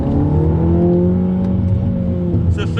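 Mini GP3 accelerating hard in manual sport mode on a track, a loud steady engine roar with rising harmonic tones climbing through the gears, heard from inside the car throughout.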